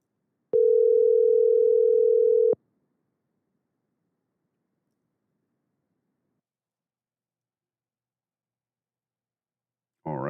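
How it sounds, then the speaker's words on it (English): Outgoing telephone call ringback tone: one steady two-second tone, then a long silence before a new sound starts at the very end. "Phone rang twice and then it hung up on me."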